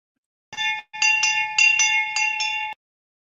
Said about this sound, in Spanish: quienes no han escuchado el sonido de la campana